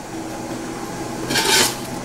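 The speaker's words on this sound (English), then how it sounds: "you can always file the commutator down just to make sure that if there's any pitting or any scratches, that you would smooth them out" An ordinary hand file rasps across the commutator of a 42MT starter motor chucked in a lathe tailstock. A short, bright scraping stroke stands out over a low steady machine hum.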